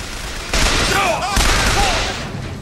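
Loud gunfire from the video game Bioshock Infinite, a dense burst of shots and blasts filling the clip with chaotic combat noise and whistling effects, close and continuous.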